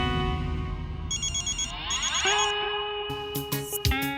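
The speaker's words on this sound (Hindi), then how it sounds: "किट्टू को फोन लगाती हूँ" A mobile phone ringtone plays a melodic, electronic tune during an outgoing call in a Hindi sitcom household scene, loud and near, ending in a few sharp tone bursts.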